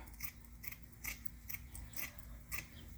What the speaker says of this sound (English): with the world's worst pair of scissors